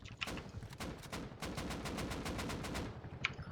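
Rapid automatic gunfire in a video game, aimed at a helicopter; sustained bursts of evenly spaced shots rattle on for most of the stretch, loud and close, with a brief pause early on and a sharp ping near the end.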